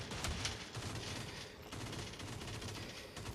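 Rapid gunfire from the mobile shooter game Modern Strike Ops, a dense continuous barrage of bursts and shots running steadily throughout at a loud level with no talk.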